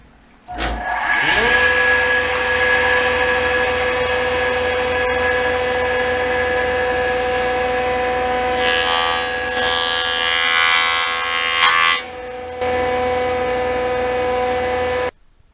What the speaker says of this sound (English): I'm going to take the barest shave off the bottom of it on the joiner